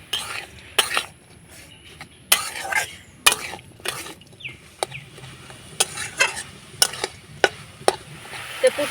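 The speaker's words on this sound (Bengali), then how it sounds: "এবার নাড়াচাড়া করে আমি পুরটা তৈরি করে নেবো" Jaggery filling for palm fruit pitha stirred in a pan, with irregular scraping strokes and sharp spatula clicks against the metal over a faint background sizzle.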